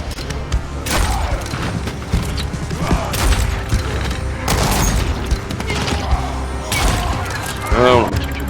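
Gunfire bursts in the zombie game Dying Light, loud and dense among game effects, with several heavy volleys at intervals across the clip and people talking over it.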